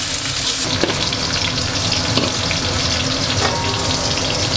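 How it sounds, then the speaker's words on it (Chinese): Ginger, garlic and chili sizzle loudly in hot oil in a home wok, a steady crackling fry with a few scraping stirs and clinks, heard alone. "姜蒜辣椒下锅爆香"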